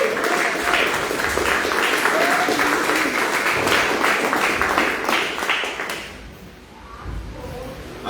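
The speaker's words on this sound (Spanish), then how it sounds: "Denle un aplauso al Señor" A church congregation claps in praise during a Spanish-language sermon, loud, dense applause sustained for several seconds, then dropping away quickly to near quiet with a few stray claps and faint room murmur.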